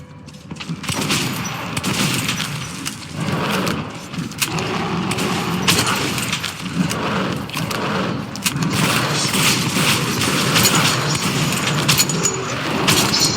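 Gunfire in the Metro Redux video game, with loud bursts of shots and booms coming one after another over a dense, chaotic battle din that never lets up.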